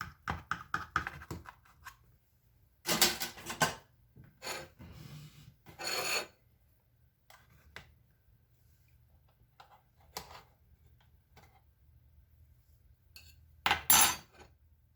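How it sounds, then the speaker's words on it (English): A knife slicing through homemade Southern buttermilk cornbread, heard as several short, close rasping cuts in separate bursts with quiet pauses between, no talking. "See how the knife just falls or glides right through the cornbread."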